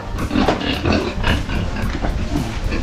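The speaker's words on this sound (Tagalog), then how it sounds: "Ganyan ang pagpapakain ng baboy." Pigs at feeding time in a farm pen make a dense, continuous clamor of grunts, squeals and oinks, loud and close throughout with no pauses.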